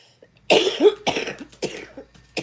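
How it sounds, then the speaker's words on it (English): A burst of repeated harsh coughs from one person, close and loud, coming in several clusters with short pauses between them. "I don't know why I'm having a coughing fit"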